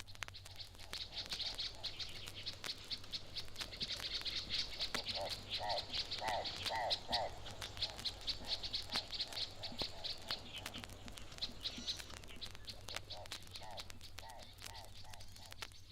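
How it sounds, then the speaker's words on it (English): A golden-winged sunbird of the East African highlands sings in quick high twittering phrases, repeated in bursts, while a deep-voiced turaco calls low in the background; the recording is faint with a steady low hum. "Here's a species which lives at high altitudes, the golden-winged sunbird, with a turco deep-voiced in the background."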